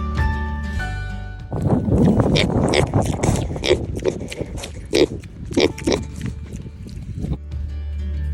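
Pigs being moved to a new paddock grunt and oink repeatedly in short, irregular bursts, close to the microphone, with some wind and a person's voice mixed in.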